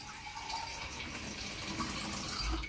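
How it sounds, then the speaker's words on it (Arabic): Warm water running from a kitchen tap, a faint steady trickle and splash over a few seconds. "الماء طبيعة الحال كناخذو عم الروبيني، ناخذو شويه دافي"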